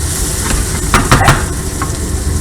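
Sauce sizzles loudly in a hot stainless steel skillet, a dense, close crackling hiss with a burst of stirring and scraping midway through.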